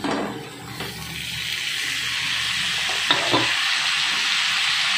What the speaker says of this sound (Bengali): কেটে রাখা বাঁধাকপি আর ক্যাপসিকামটা এবারে একসঙ্গে দিয়ে দিচ্ছি